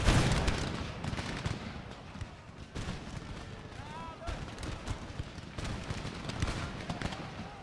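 A dense musket and cannon battle in Empire Total War: continuous crackling volleys and deep booms roll on at mid distance, with someone talking over the din.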